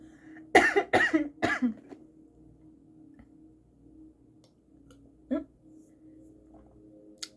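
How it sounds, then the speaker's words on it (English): Three quick, close coughs burst out in a row, followed by quiet room tone with a few faint ticks and one short throat sound. "excuse me, I'm going to cough."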